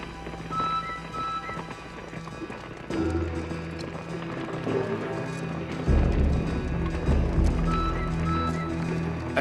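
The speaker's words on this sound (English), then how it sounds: "the pounding hooves on the hard ground" Horses gallop across hard ground in a Western film scene, hoofbeats pounding in a rapid rhythm that grows louder and closer, with a whinny and dramatic music alongside.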